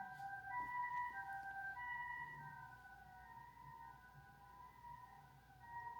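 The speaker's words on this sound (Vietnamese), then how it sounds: "mình nghe tiếng xe cứu thương" An ambulance siren wails outside, its steady rising and falling tones drifting from a distance and slowly fading as the vehicle passes, with no talk over it.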